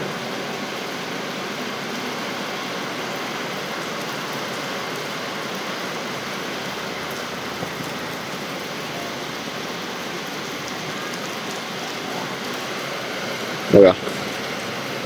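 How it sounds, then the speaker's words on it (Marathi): Steady rain falls in Mahabaleshwar, a continuous even hiss of drops lasting throughout, with one brief louder knock near the end. "बघा तुम्हाला पाऊस दाखवतो इथला महाबळेश्वर मधला।"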